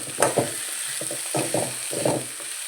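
Tempering for poha frying and being stirred in a pan, with crackling sizzle bursts and a spoon scraping in an uneven rhythm, close and fairly quiet, without any talking.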